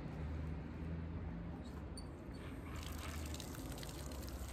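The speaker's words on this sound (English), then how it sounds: "this garden hose adapter, I'm going to go ahead and put in this plug right here and turn the water on," Water pours from a garden hose adapter into a Polyform A1 buoy punching bag, making a steady, dense rushing hiss that runs unbroken throughout, with no talking.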